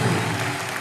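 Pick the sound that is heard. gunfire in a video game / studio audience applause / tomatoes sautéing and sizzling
studio audience applause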